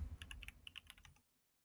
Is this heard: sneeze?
no